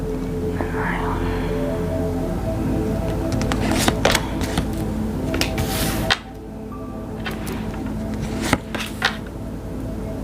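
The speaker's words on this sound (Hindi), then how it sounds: "पहले कार्ड्स निकाल लूँ मैं।" Tarot cards are pulled out and shuffled close by, a run of crisp riffles and soft slides with a few sharper flicks and taps, under a faint whispery background hum.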